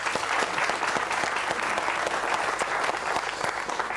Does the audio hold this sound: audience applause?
yes